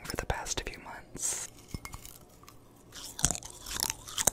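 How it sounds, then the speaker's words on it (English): Close ASMR chewing and crunching of toenail clippings, a series of crisp, irregular bites and crunches spread across several seconds, soft and intimate with faint whispery breaths between. "let's chew on my toenail clippings that I've been harvesting for the past few months"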